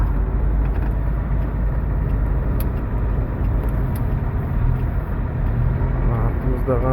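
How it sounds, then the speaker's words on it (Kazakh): Stop-and-go traffic in an Almaty jam, heard from inside a car as a steady low engine rumble and road drone. Faint voices come through near the end. "басталды пробка."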